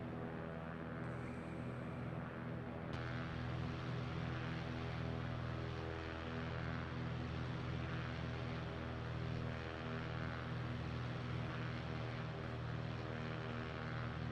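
Propeller airplane engine droning loud and constant inside the cockpit while flying over Philadelphia, a dense steady roar with no talking.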